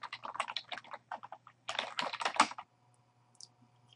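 Username and password being typed on a computer keyboard: rapid, close clicking keystrokes in two bursts with a short pause between, then quiet with only a few scattered taps.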